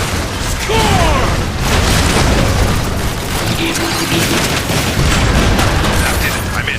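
In Transformers War for Cybertron, power cells are blasted and explode in a dense, loud barrage of booms and bursts under steady gunfire, with game voices talking over the noise.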